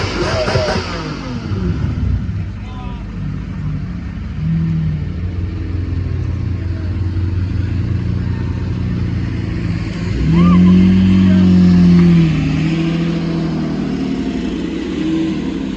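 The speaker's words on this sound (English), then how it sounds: "And now for Mr. Matt Armstrong with his M5 and Murcielago." A BMW M5 and a Lamborghini Murcielago pull away at a Gumball 3000 rally stop in the UK, with loud, sustained engine drone that rises into a stronger rev near the end.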